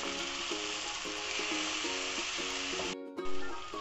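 Tomatoes, green chillies and crushed ginger-garlic mixed into chicken frying in a pan, a strong steady sizzle with regular spoon strokes, then a brief break near the end, no voices.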